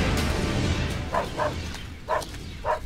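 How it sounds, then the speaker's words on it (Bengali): Cartoon pack of fierce dogs barking as they close in, four short sharp barks spaced apart over a busy background bed. "এই কুকুরের আওয়াজ আসছে কোথা থেকে?"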